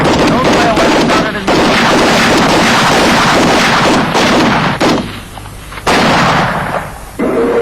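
Dense, continuous gunfire with loud overlapping bursts, briefly dropping off twice before resuming, with shouting voices mixed in.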